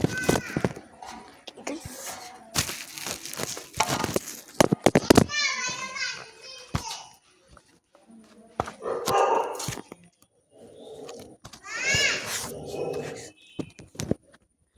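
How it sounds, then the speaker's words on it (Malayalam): A dog at the house next door barks in short, scattered bursts, heard in a domestic setting mixed with children's chatter and nearby voices. "അപ്പുറത്തെ വീട്ടിലൊരു പട്ടിയുണ്ട്."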